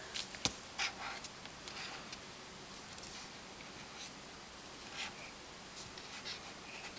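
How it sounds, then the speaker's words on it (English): A child draws a picture with a pen in a quiet room, making faint, scattered scratchy strokes with brief pauses between them. "Can you draw a picture of Dad?"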